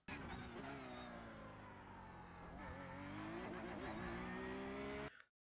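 A Porsche 911 GT3 R race car engine in iRacing at Laguna Seca, heard onboard as a loud continuous drone with fluctuating revs and a stuttering, cutting note from traction control working, ending abruptly.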